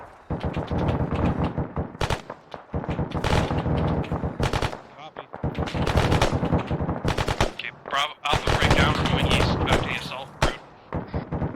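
Sustained bursts of heavy machine-gun fire from a BMP in the military game ARMA 3, loud, dense and rapid, with short pauses between long volleys and voices faintly mixed in.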